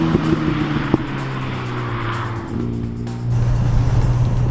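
Renault Mégane 2 RS with a 265 hp engine being driven, a steady in-cabin engine drone with gear shifts and shifting pitch, heard close and continuous with no talk.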